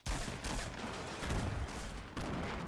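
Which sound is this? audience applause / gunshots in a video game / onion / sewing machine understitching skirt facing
gunshots in a video game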